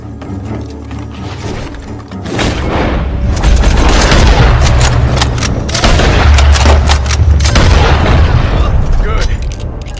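Heavy, booming gunfire in Red Dead Redemption 2 with clattering mechanical sounds, loud and continuous, mixed with a dense, chaotic action soundtrack.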